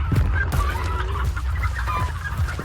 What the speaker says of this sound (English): Need to really get away from these darn chickens.